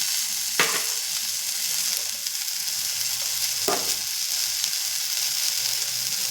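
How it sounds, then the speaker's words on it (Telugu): Ingredients for a tamarind and cucumber chutney fry in a pan with a constant close sizzle, broken by two brief sharp spatula scrapes. "విడిగా వేయించుకుందాం. అవి కాస్త బాగా ఎక్కువసేపు వేగాలి."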